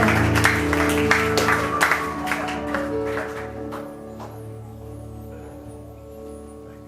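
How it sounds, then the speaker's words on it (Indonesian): Applause at a Christmas church service in Bendogerit bursts in dense clapping for the first few seconds, then thins to scattered claps and fades into quieter room sound. "Mari berikan tepuk tangan buat Bapak Sudaryono."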